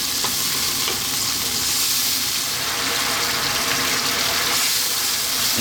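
Sauce for a whole fried sea bass bubbling and frying in a pan over high heat while being stirred constantly: loud, dense, continuous sizzle and hiss close up, with no talk.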